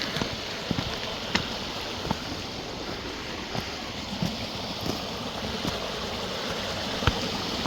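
A river flows along a hiking route to a lean-to shelter, a steady broadband rush of water close by with occasional soft knocks and splashes, no voices over it.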